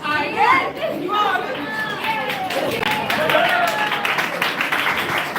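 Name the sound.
classroom group clapping for themselves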